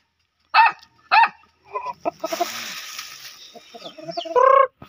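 Chickens clucking and squawking on a rural house-construction site in the Philippines, with sharp dog barks cutting in at the start and end, loud and close, over a scratchy background.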